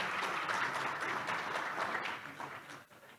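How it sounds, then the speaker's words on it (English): A conference audience gives a full round of applause for a panel of speakers at a regional growth event, steady dense clapping for about three seconds that thins out and fades at the end. "Please join me in welcoming our speakers with a massive round of applause."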